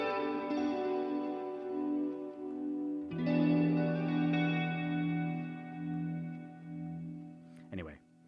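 A noise box effect produces a droning, buzzy electronic tone with heavy chorus-like wobble, holds steady, restarts abruptly midway, and ends with a short warbling sweep.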